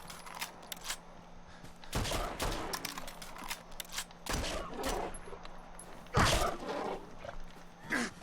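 Bursts of automatic gunfire in Fallout 4, several loud volleys of rapid shots separated by brief lulls, with softer clicks and mechanical noises between them.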